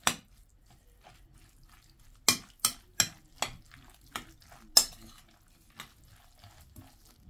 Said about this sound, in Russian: Все хорошенечко это перемешиваем.